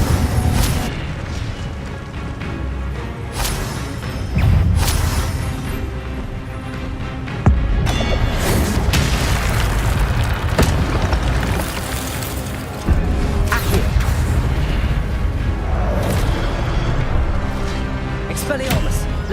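Spell impacts in Hogwarts Legacy, a rapid string of loud booms, bursts and blasts in quick succession, with chanted spell names spoken over the dense, crashing effects.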